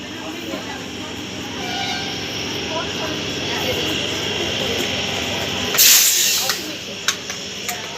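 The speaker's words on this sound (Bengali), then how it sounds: "এই হলো শিয়ালদা শান্তিপূর্ণ লোকাল।" A Sealdah local train passes at a station with a sustained rumbling hiss of wheels and carriages, close and loud, ending with a sharp burst of hissing air and a few clanks; a voice speaks over part of it.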